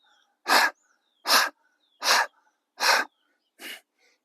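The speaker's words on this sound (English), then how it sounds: "And when you got the panting," Panting breaths during a breathing exercise: five sharp, evenly spaced breathy bursts about every 0.8 seconds, close and clear, with quiet gaps between them and no talking.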